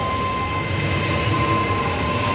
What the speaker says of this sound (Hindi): हमारे लखनऊ के मेट्रो।